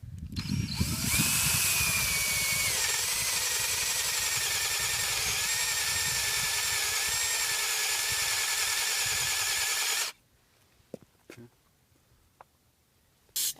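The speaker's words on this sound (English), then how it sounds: "I'm going to use a 2-inch Forstner drill bit to drill a wide enough hole" A power drill with a 2-inch Forstner bit bores into driftwood, a loud, sustained whining grind with a high squeal that holds for about ten seconds, then stops abruptly, followed by faint clicks and handling sounds.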